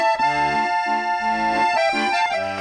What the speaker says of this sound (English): Have you seen someone play an accordion before?